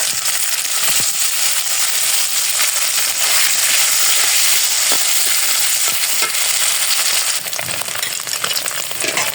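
Paneer fries in a pan with sauce and ginger, a loud dense sizzle and crackle with occasional stirring scrapes, close and continuous, no voices.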